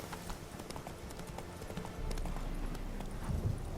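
Horse hooves gallop in The Witcher 3 video game, a steady, rapid clip-clop close up that runs throughout and grows slightly louder partway through, with no talking over it.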